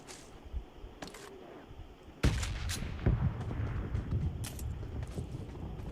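Gunfire in a battle royale video game: a few sharp shots and bursts crack out over a steady layer of game ambience, fairly loud and close, with no voices.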